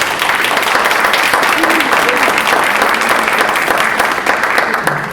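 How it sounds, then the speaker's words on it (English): Loud, close applause from an audience applauding a panel of entrepreneurs, dense continuous clapping with some crowd noise, sustained evenly throughout and tapering slightly at the end. "let's all give them a round of applause"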